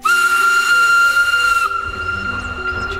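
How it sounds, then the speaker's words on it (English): A loud, sustained steam whistle holds a steady high tone for about a second and a half, then cuts off, leaving hissing steam and a low chuffing rumble. "you'll hear the whistle"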